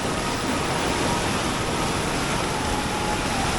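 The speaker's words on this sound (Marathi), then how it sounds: "इकडं पाणी चाललंय" Water flowing in a roadside culvert or channel in a Konkan village, a loud, steady broadband rush that fills the whole clip without pause, no voices.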